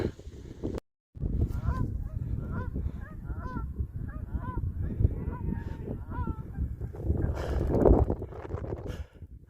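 A flock of geese honks repeatedly in a rhythmic series of calls over rushing wind noise, fairly close and clear.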